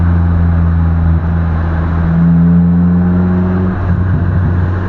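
Manual car being downshifted without the clutch, the engine droning steadily then revving up and dropping as the gear change is forced, loud and close with no talk.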